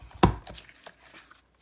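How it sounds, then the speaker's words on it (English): A sprig-shaped paper punch presses through glimmer paper with one sharp, loud snap, followed by softer crinkling and rustling of the sheet. "we're using the sprig punch"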